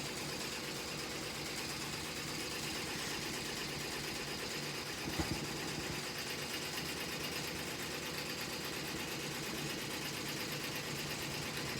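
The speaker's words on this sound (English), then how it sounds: "So now it's stitching it out." A 15-needle embroidery machine stitches out an applique design with a continuous, steady mechanical whir and rapid needle chatter, loud and close, with one brief thump near the middle.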